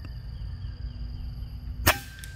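A single sharp crack from a bocap FX PCP air rifle firing one shot, sudden and close after a quiet stretch of low background hum, with a short fading tail.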